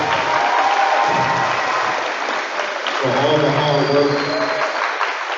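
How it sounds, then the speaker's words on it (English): A crowd applauds scholars at an eighth grade promotion ceremony, a steady wash of clapping that runs the whole way through while a speaker talks over it. "let's give these scholars one more round of applause"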